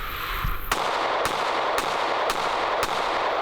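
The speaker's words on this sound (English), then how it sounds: "All right, 5 rounds. Canik prime 115 grain." A Canik MC9 Prime pistol firing five 115 grain rounds outdoors, loud sharp cracks spaced roughly half a second apart over a constant background roar.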